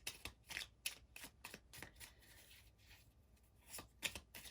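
Tarot cards drawn from a deck make a quick run of crisp, close slapping and riffling snaps that come in short bursts, with a quieter pause in the middle.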